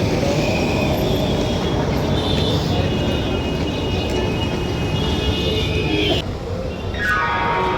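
A train passing at a station platform, a loud, steady broadband rumble that fills the whole stretch, with tonal squeals and hums over it and a slight dip near the end.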